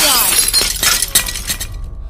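A bowl of water falls and smashes on a polished floor with a loud, bright crash, a burst of shattering glassy pieces scattering and ringing out for over a second before cutting off.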